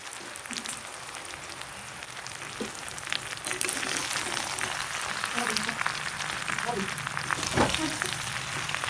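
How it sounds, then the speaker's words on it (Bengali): Jujubes (kul) fry in oil in a pan while a pickle is being made, a soft, even, rain-like sizzle that grows slightly louder midway and stays fairly quiet. "দু থেকে চার মিনিটের মতো এভাবে আমি ভেজে নেব"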